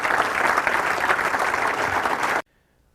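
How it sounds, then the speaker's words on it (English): Audience applause for a comedian: a full, dense burst of clapping that holds steady, then cuts off abruptly into near silence. "Give him another big round of applause."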